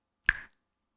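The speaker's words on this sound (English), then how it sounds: "when I snap my fingers" A single crisp finger snap rings out close and clear in a quiet room, sharp and brief with a short decay.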